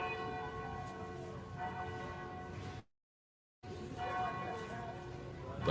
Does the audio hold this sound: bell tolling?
yes